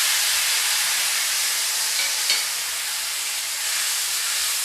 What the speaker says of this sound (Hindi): अनियन डालने के बाद मैं अनियन को 1 मिनट तक भूनकर रेडी कर लेती हूँ।